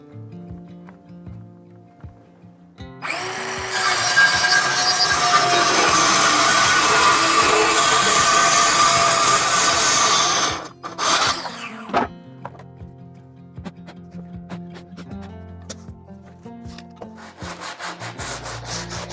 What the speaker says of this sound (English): Either use a table saw or I'm just going to use a circular saw.